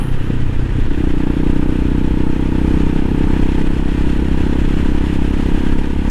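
CSC TT-250 dual-sport motorcycle on the road, its small single-cylinder engine droning steadily and loud throughout with a low rumbling hum and wind buffeting, no talk.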